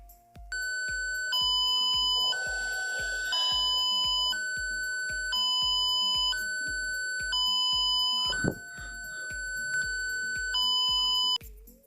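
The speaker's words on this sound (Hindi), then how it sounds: "जैसे ही फायर आता है तो ये स्पीकर बीप करता है" A homemade Arduino fire alarm with an IR flame sensor drives a small speaker that beeps loudly and electronically in a repeating two-tone pattern for several seconds, broken briefly by a sharp click, with no talking.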